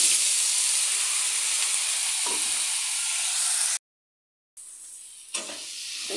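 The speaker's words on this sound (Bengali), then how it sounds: "একটু ভেজে নেব আমি" Eggplant and onion frying in fish oil give a steady, loud, close sizzle that cuts out briefly, then resumes more softly with a few stirring scrapes.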